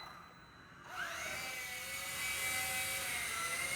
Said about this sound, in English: So you press this to take off.